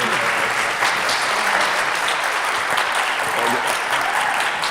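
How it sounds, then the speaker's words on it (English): An audience at a startup challenge final gala breaks into loud, sustained applause, dense clapping filling the room without pause. "Please give a big applause to them."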